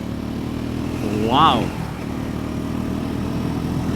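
The engine of a Triumph Scrambler 400X motorcycle rumbles steadily and low throughout a ride, with a brief rising tone near the middle, as someone talks over it.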